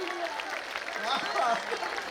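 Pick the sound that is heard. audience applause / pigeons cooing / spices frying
audience applause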